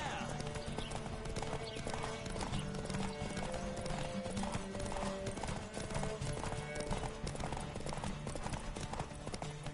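A horse gallops in a race in The Witcher 3, hoofbeats pounding in a steady rapid rhythm close by, with occasional whinnies and a voice speaking over the continuous running.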